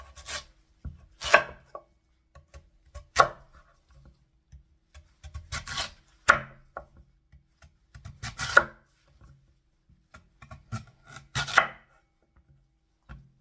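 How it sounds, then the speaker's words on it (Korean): Knife chopping through radish on a cutting board for a Korean braised radish dish, a series of sharp separate cuts with irregular spacing, close and moderately loud with quiet gaps between strokes and no talking. "무는 요 정도의 두께로 썰어 줄 겁니다"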